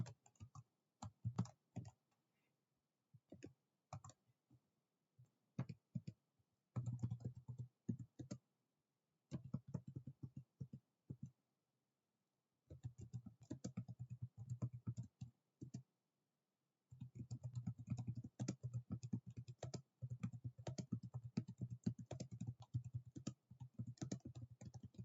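Computer keyboard typing in quick clattering bursts separated by pauses, the runs growing longer and denser toward the end, close and quiet.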